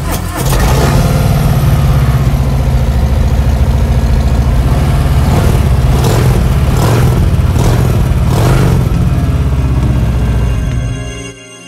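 A 2021 Harley-Davidson Softail FXFB Fat Bob with the 1868cc 114 engine and custom upgrades runs loud and close, a deep steady idle with a burst of throttle blips partway through before cutting off.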